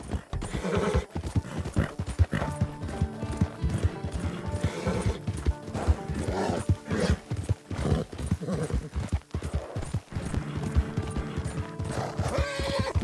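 Horse hooves pound in a fast gallop, mixed with repeated whinnies and neighs, in the Wild West game Red Dead Redemption 2. The sound runs continuously and loudly with no speech over it.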